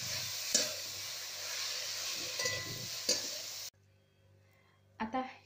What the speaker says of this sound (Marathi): खूप सारी कोथिंबीर जी आहे आपल्याला यात टाकायची आहे, आणि एकदम मंद आचेवरती आपल्याला म्हणजे एकदम थोडंसं परतून घ्यायचं आहे